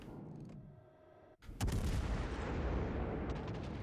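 A tank gun fires once in a video game, a sudden heavy boom that rings out into a long rumbling decay, following a quieter stretch of faint mechanical sounds.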